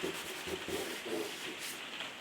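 Soft pastel being rubbed into paper during a beginners' pastel painting workshop, a quiet, steady scratchy rubbing with light rhythmic strokes, heard close and alone.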